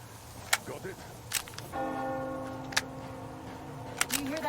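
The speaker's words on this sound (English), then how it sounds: "Do you hear that bell?" In the ruined world of Metro Exodus, a church bell tolls once and keeps ringing with a long sustained hum, while sharp clicks and knocks sound around it.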